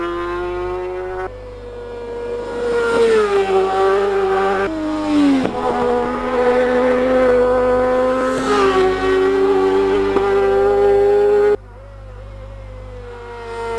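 A Yamaha racing motorcycle at the Manx Grand Prix Senior Race screams past at full throttle, its loud high engine note rising and falling through gear changes before cutting away near the end, with no voices.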